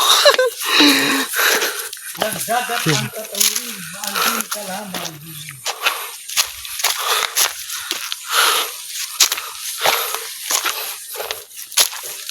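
A person panting hard and out of breath while trekking outdoors near a river crossing in the Philippines, with short rapid wheezy breaths following a stretch of voices talking.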